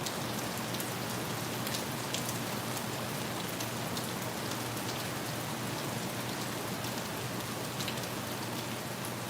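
Steady rain spilling over the edge of newly installed eavestroughing with a downspout blocked by a bird's nest, a continuous dense patter and splash that stays at an even level throughout with no voices.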